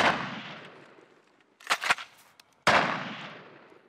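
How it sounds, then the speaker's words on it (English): Two sharp, booming shots of rubber bullets fired at a bear outdoors, each followed by a long echoing decay, with a brief clatter of smaller bangs between them. "The rubber bullets sting, but won't penetrate the bear's hide."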